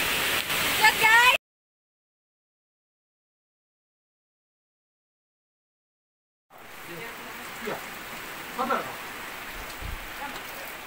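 Steady rain patters outdoors, a dense hiss with scattered drop hits, heard after a long silent gap; a voice speaks briefly at the start.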